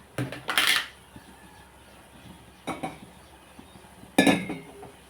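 A metal tea pot clanks and clinks as it is set onto a stove, three short bursts of rattling pan noise, close and moderately loud with quiet between.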